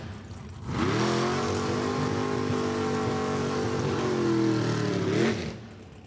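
A drag racing dragster engine at Lucas Oil Raceway revs to a loud, sustained roar for several seconds, then drops away, close by with no talk.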